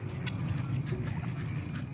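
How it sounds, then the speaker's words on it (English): A flock of farm ducks kept alongside chickens quacks in a steady, dense chorus at moderate distance, with raspy calls overlapping continuously and no talking. "And I went ahead and got chickens and ducks."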